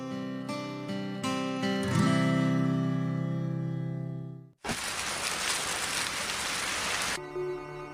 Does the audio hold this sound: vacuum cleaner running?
no